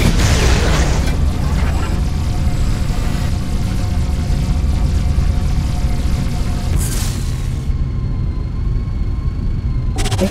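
Incoming missiles explode in Galaxy Rebels amid a steady, loud roar of engines and booms, dense continuous rumble with a sharp burst near the end before it thins to a humming tone.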